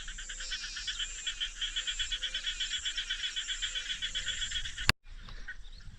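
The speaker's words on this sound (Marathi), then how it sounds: "इकडे बेडकं लागली आरडायला" Frogs croak in a fast, steady pulsing chorus, loud and continuous, then cut off suddenly by a click and quieter background.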